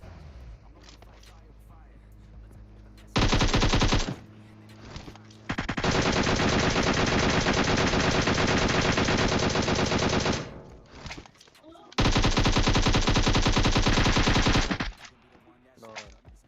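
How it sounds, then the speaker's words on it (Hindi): Machine gun fire in the video game PUBG Mobile, two long sustained loud bursts and a short earlier one, with quieter gaps where a voice talks. "और यहाँ पे मैं लगभग 100 गोली बर्बाद कर देता हूँ"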